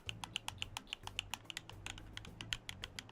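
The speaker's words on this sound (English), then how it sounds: "Sounds like a keyboard." Rapid keyboard typing on a computer keyboard, a steady run of crisp, close key clicks with a faint low hum underneath, no voices.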